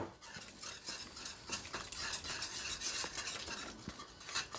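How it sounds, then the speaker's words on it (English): A whisk stirs a flour and juice mixture into berry pie filling in a pot, a steady, soft wet swishing and scraping that continues without pause, close and fairly quiet. "Whisk that in."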